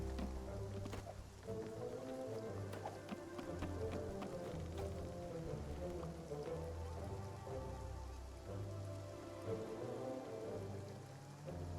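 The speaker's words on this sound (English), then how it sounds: "This rain, will it ever stop?" Steady rain pours in the video game Spiritfarer, a dense continuous patter of drops with scattered sharper splashes over a low background tone, holding evenly throughout with no voices.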